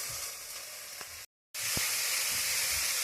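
Squash browns in a frying pan with a loud, bright, steady sizzle and hiss that cuts out for a split second, then resumes even louder with a low thud.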